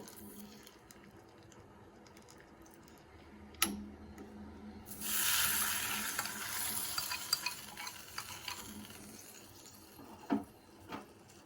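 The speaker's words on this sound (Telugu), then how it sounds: "ఇప్పుడు ఈ తాలింపుని దాంట్లో వేసేస్తాను" Hot tadka tipped into a pot of tomato rasam, bursting into a loud sizzle a few seconds in that gradually settles, with occasional stirring clinks before and after.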